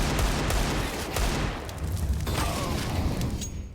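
Rapid bursts of rifle fire in a Counter-Strike: Global Offensive esports match on Mirage, dense overlapping shots echoing for a few seconds, loud and close.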